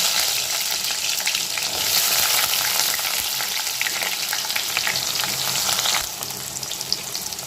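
Cumin, fenugreek and shallots fry in hot oil for a fish dish, a steady dense sizzle with crackling pops and some stirring, close and continuous, easing slightly near the end.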